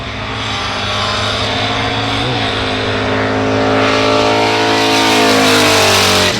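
A drag racing car's loud engine roars continuously down the strip, its pitch rising steadily as it accelerates hard, with a brief shift-like dip midway.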